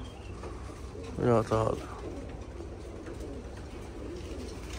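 Pigeons kept in a loft coo in a short rolling burst, close and clear, while someone speaks briefly over a low background hum.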